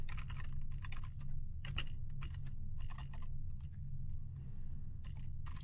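Close, quiet clatter of fingers typing JavaScript code on a computer keyboard, coming in rapid bursts of keystrokes with short pauses over a low steady hum.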